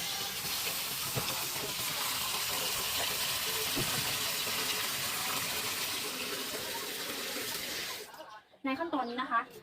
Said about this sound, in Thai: แล้วก็จะเปิดน้ำใส่นะคะ